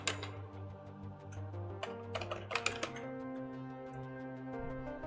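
Computer keyboard typing in quick bursts, close and clear, with a steady low hum and tones from a factory-building game running underneath.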